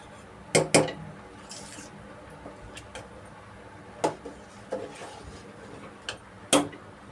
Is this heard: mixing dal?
yes